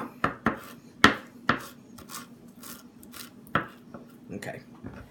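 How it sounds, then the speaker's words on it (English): A knife chops food finely on a cutting board, with a handful of sharp, irregular thunks and softer scraping taps at close range. "You want to kind of chop these up as fine as you can."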